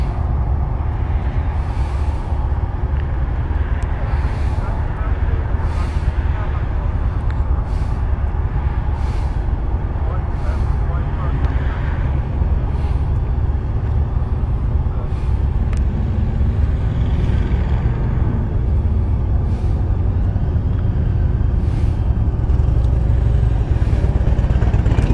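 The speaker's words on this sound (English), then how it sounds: "All the pretty bikes rolling out." Motorcycles rolling out onto the road on a trip to Tazewell, Tennessee, giving a loud, steady engine roar that holds for the whole stretch with no break and no voices.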